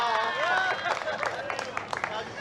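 Audience at a newspaper's anniversary celebration clapping, a moderate burst of applause mixed with cheers and voices, rising and fading in uneven patches rather than a steady roar.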